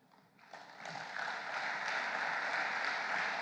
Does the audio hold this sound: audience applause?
yes